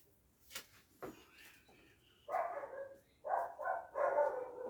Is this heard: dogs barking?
yes